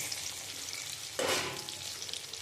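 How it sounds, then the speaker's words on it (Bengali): Fried teasel gourd (kakrol) added to hot spice masala, a continuous sizzle that swells into a louder frying hiss partway through, close and without talk. "আমি কাঁকরোলটা দিয়ে একটুখানি কষিয়ে নেব।"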